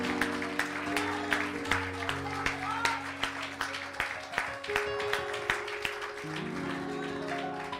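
A church congregation claps in praise during a Sunday worship service. The claps are rhythmic and steady, mixed with music and a sustained tonal backing.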